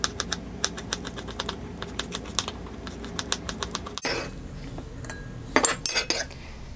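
A knife chops tomatoes into small pieces on a cutting board, rapid regular close taps and knocks, followed by a few louder clatters of utensils and handling.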